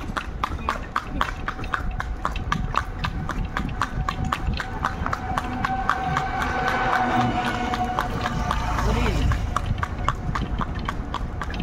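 Horse cart running fast in Murshidabad, hooves clip-clopping in a steady rapid rhythm close by, loud and continuous throughout, with background road noise and faint voices.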